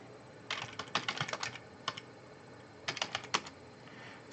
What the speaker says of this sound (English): Improve your typing, Chuck.